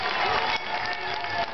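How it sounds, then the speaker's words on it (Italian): Roadside crowd applauding a rider finishing a stage of a women's cycling race in Italy, a brief burst of clapping and cheering under a commentator's voice. "Applauso per lei, l'australiana."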